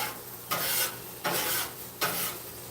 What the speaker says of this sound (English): Make sure that we get that egg mixed all the way through the rice